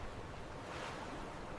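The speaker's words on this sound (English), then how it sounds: "The sea is quiet, but this kind of quiet does not feel safe." A quiet sea with soft, continuous wash of waves and light wind, faint and even throughout, with no voices.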